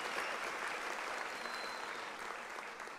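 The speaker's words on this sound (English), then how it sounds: "I think you need to give a round of applause." Audience applause at an academic year opening ceremony, following a welcome for a South African gospel artist; steady dense clapping from a crowd, fairly faint and distant, continuing throughout without speech.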